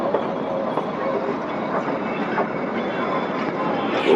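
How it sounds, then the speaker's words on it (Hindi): Kalka-Shimla toy train on the narrow-gauge mountain line running along its rails, a steady broad rumble with faint rhythmic clatter heard from on board, continuous and moderately loud throughout. "ये जो हमारी ट्रेन थी वो शिमला कालका एक्सप्रेस थी।"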